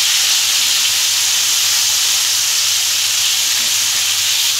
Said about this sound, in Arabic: عندي هنا الزيت ده هننزل بيه بنص كميه البصل